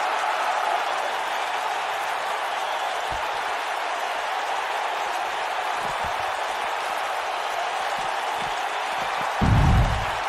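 A loud arena crowd in the wrestling video game WWE 2K19 roars steadily as a dense, unbroken wash of cheering, with a few low thumps and a louder rumble near the end.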